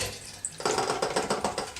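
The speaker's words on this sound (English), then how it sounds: "Pour the developer down the sink." Used black-and-white film developer is poured down a sink. After a quiet start, it glugs and splashes in a quick, pulsing stream that is close and fairly loud.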